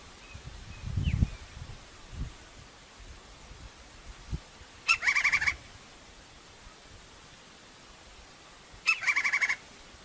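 A large crimson-crested woodpecker gives two short rattling call bursts a few seconds apart. The calls sound moderately distant over a quiet, faintly rustling background.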